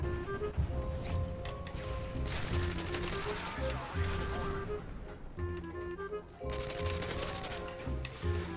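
Gunfire in a Call of Duty video game, with rapid bursts of automatic shots and mechanical clatter alongside explosions and other game effects, loud and dense throughout.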